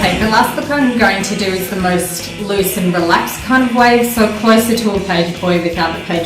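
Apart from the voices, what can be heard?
No everyday noise stands out behind the speech.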